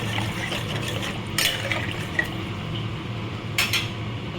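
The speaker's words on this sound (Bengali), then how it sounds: "দেখো, এবারে আমি এটায় জল দেবো।" Water is poured into a pot of vegetable fish curry, making a steady splashing, filling sound with a few clinks of a utensil against the cookware.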